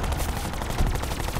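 Gunfire in the shooter game Black Ops 4 rattles in a rapid, dense burst of close, loud shots over a low rumbling backdrop.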